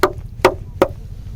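Three sharp, hard knocks on thick solid ice, evenly spaced about 0.4 seconds apart, close and loud with no cracking, then quiet.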